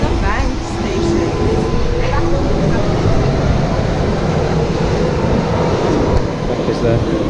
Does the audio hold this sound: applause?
no